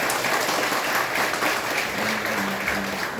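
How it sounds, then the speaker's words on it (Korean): A church congregation applauds to congratulate a young man on his wedding, a short burst of full, even clapping from many people, with a faint tonal hum underneath. "우리 축하의 박수 한번 부탁드립니다."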